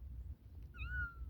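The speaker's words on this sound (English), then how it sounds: "That's my calico kitty." A calico cat gives a single short, rising-then-falling meow outdoors on a Wyoming afternoon, fairly close, over a steady low rumble of background noise.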